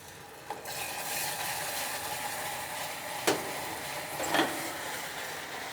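Cream goes into hot melted golden sugar for butterscotch caramel, and the mixture hisses and bubbles in a steady sizzle, with a few brief louder spurts as it is stirred.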